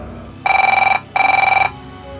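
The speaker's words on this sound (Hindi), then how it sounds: "गाड़ी के पास ही उसके फ़ोन के बजने की आवाज़ आ रही थी," A mobile phone lying beside a crashed car rings in two loud, steady electronic bursts with a short gap between them, with no voices.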